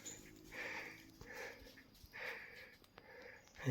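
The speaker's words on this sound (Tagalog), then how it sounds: "Yun yung aso." A dog on a mountain trail sniffs in short bursts, with soft snorts and faint whimpers between them, close by and fairly quiet, and a louder rustle at the end.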